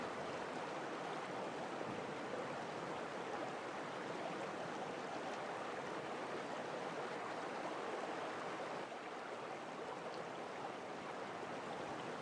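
Water rushes steadily through an underground qanat channel in Yazd, Iran, a constant broad hiss and roar with no pauses, moderately faint and heard alone.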